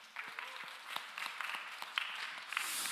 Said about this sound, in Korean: 우리 박수로 위로하고 격려하겠습니다.